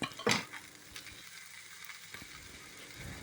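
Okra and tomato dropped into hot oil with ginger garlic paste, a sharp clatter and burst of sizzle, then a soft steady frying hiss, fairly quiet with no speech.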